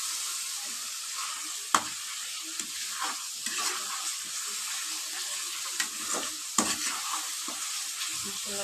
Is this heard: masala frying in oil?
yes